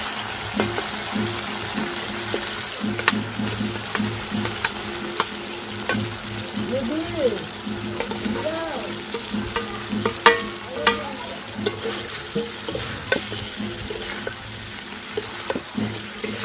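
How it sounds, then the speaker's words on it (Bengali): Potatoes and moringa drumstick pods sautéing with spices in a pan for a rui fish curry: a steady, moderate sizzle broken by frequent scraping stirs, with no talking. "আলু আর সজনে মশলার সাথে ভালোভাবে কষিয়ে নেব।"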